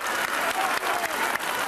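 Crowd applause at an outdoor political rally in Athens, steady dense clapping throughout a short stretch with a faint murmur of voices underneath.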